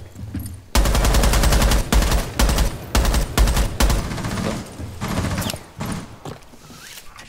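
Video game gunfire: loud bursts of automatic fire in several rapid strings separated by short pauses, then quieter scattered shots.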